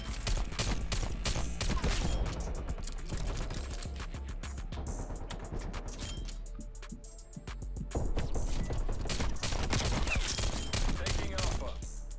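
Akimbo pistols firing in Black Ops Cold War multiplayer: rapid, dense bursts of sharp cracking shots nearly nonstop, briefly thinning midway before resuming, with faint voice chatter underneath.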